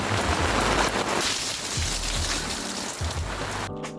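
Heavy rain falling outdoors on a build site for a mountain bike drop landing: a dense, loud, constant hiss of drops with low thumps underneath, cutting off abruptly near the end.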